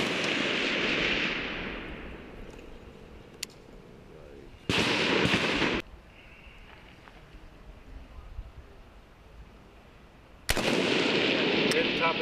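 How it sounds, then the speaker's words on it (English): Rifle shots fired at targets during a sniper sustainment course outdoors, with two loud sharp cracks that ring out and decay, separated by a long stretch of quiet background noise. "You're supposed to shoot the targets."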